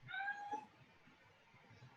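A cat gives a single clear meow right at the start, fairly close, during a live tabletop role-playing game session, then the room falls to quiet background noise with no talk.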